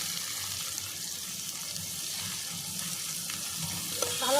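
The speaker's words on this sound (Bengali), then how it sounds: "পেঁয়াজ রসুন ভালো করে কষিয়ে নিলাম" Chopped onion and garlic sauté in a pan for a prawn and bamboo shoot curry, giving a steady, even sizzling hiss that builds slightly toward the end.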